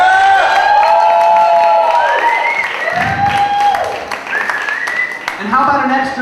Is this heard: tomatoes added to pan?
no